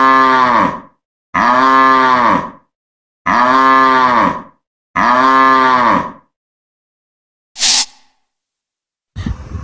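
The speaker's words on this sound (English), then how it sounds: "Cow." A cow moos four times in steady succession, each call loud, deep and drawn out for over a second, close up and alone, followed by a brief hiss and a rough noise at the end.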